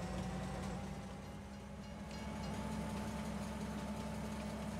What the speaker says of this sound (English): I wanted to hear train audio